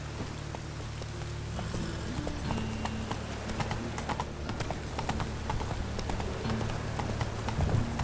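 Roach, the horse in The Witcher 3 video game, canters with steady, rhythmic clip-clop hoofbeats close by, over a soft wet background hiss.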